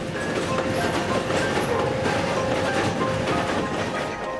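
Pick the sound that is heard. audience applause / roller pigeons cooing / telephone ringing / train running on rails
train running on rails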